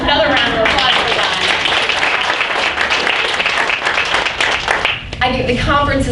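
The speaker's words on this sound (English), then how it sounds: "I think you deserve another round of applause for that." A conference panel audience breaks into loud, sustained applause, dense and close for about five seconds before tapering off as a voice starts speaking.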